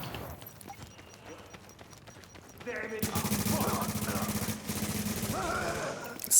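Rapid SMG fire in a video game, a dense burst of loud automatic shots starting midway and continuing in sustained rattling volleys after a quieter stretch of soft footsteps and faint background talk.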